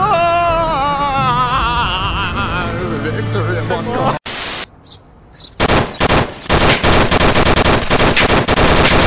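Gunfire in the Onward VR shooter: a melodic voice-like passage gives way to a brief gap, then loud rapid bursts of automatic fire dominate, dense and close.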